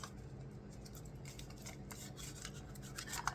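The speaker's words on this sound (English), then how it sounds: "I have to shuffle." A tarot card deck being shuffled, quick soft riffling and sliding flicks in irregular bursts, close and fairly quiet, with no talking.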